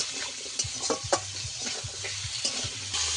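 Potatoes frying in oil with salt in a pan, steady sizzle under repeated stirring scrapes and light knocks, close and moderately loud.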